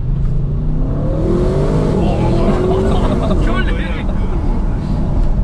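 An Audi RS6 accelerates hard on a road, its engine note climbing steadily and loudly through the revs, with people talking over it inside the car.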